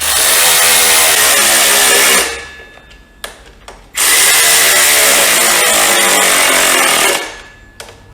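Flywheel bolts on a Ford Zetec engine with a lightened flywheel are nipped up with a power tool, giving two loud, sustained buzzing bursts separated by a short quiet gap with clicks.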